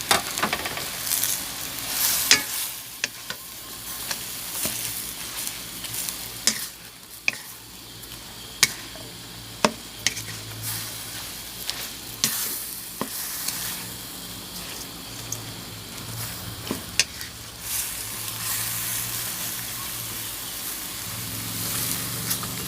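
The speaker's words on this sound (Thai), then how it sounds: "เราก็จะใส่เห็ดลงไปเลย ใส่ลงไปเลย" Enoki mushrooms fry in a pan with prawns and pork, giving a continuous sizzle broken by sharp scraping clacks of a utensil stirring, close and fairly loud, no speech.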